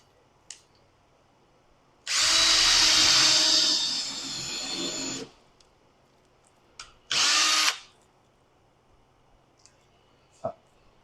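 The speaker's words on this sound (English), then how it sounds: "Pre-drill." A cordless power drill pre-drills pickets for a four-foot wooden picket fence section outdoors: one long whining run of about three seconds that drops in pitch under load, then a short second burst, with faint clicks around it.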